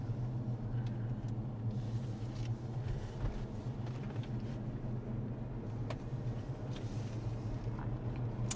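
Cabin of a Tesla Model S driving along a country road, a faint steady low rumble of tyres and road noise with occasional soft knocks, no talking.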